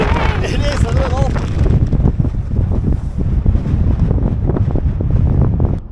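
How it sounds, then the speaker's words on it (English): Strong wind buffeting the microphone with a steady low roar on a road near El Chaltén, Argentina, and a voice briefly audible at the start. "It's a bit windy."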